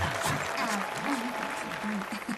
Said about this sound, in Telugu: కొట్టండి రా చప్పట్లు.